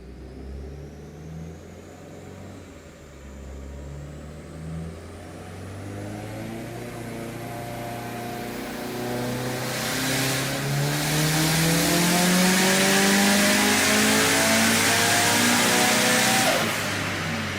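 A turbocharged IAG 750 engine with a Blouch turbo, flex fuel and a Link G4x tuned after a boost leak fix, revs in long climbing pulls. The loud engine note builds and swells past a rushing peak, then settles again.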